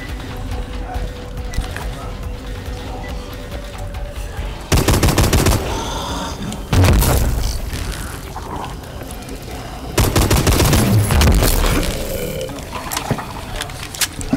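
Rapid automatic gunfire bursts in Call of Duty Advanced Warfare's Supremacy zombies mode aboard the Carrier map, loud repeated volleys with booms and mechanical clatter, separated by brief lulls, while voices talk over the action.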